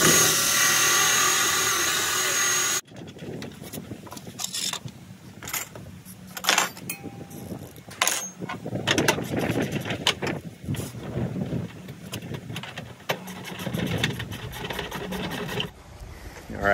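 A power drill grinds through the helm of a skiff boat up close, running in uneven bursts with brief pauses and rattling handling noise between them.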